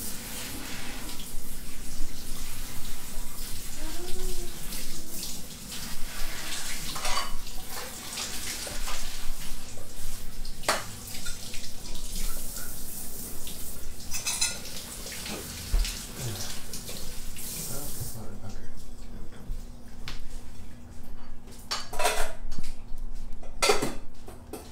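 Leeks being rinsed under a running kitchen tap for potato leek soup, a steady broadband water rush lasting throughout with occasional clinks of dishes in the sink, no talking.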